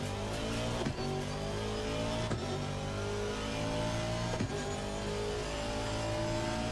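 An Aston Martin V8 Vantage race car in Assetto Corsa Competizione roars at steady high revs with brief dips at gear shifts, a loud continuous engine drone alone with no talk.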